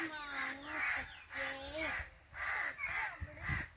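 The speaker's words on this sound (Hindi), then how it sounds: "इसको कवे तंग कर रहे हैं क्योंकि ऊपर घोंसला है कवे का, इसलिए इनको तंग कर रहे हैं और बोल रही हैं।" Crows caw repeatedly near their nest in a village in Kandi, Jammu, harsh calls coming in regular bursts about every half second to second, moderately close, with faint background sounds and no speech.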